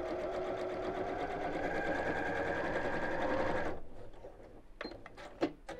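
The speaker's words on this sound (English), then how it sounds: "I'm just using the edge of my foot as a seam allowance. So let's just put the stitches down." Sewing machine stitching a seam on a simple circle pouch, a steady close whirring drone for several seconds that stops abruptly, followed by a few light clicks and handling taps.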